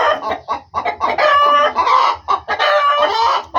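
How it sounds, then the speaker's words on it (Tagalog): Caged chickens cluck busily up close, a dense run of overlapping clucks and squawks with brief gaps between bursts. "Mga manok, nakakulong ngayon dyan, mga manok."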